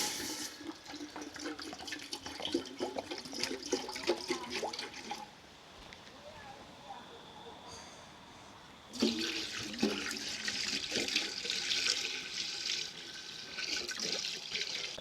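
Water pours and splashes into a cooking pot at an outdoor riverside camp, a steady gushing stream that pauses briefly and then resumes strongly.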